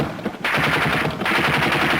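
Egyptian tank and artillery barrage pounding the Bar-Lev line in October 1973, heard as dense, continuous rapid gunfire and booming blasts, loud and close, with a brief lull before the barrage resumes.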